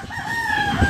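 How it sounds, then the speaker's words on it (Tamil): A rooster crows once, a loud, close, drawn-out call with a rising then sustained tone. "கொக்கரக்கோ கோழி கூவுது."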